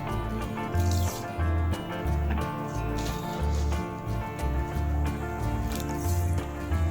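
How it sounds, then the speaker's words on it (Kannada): Sugar being mixed into an egg mixture for French toast in a bowl: close, wet squishing and sloshing strokes in an uneven rhythm, with soft clinks of the utensil. "ನೆಕ್ಸ್ಟ್ ಸಕ್ಕರೆ ಮಿಕ್ಸ್ ಆಗುವ ತನಕ ಮಿಕ್ಸ್ ಮಾಡಿದ್ರಾಯ್ತು"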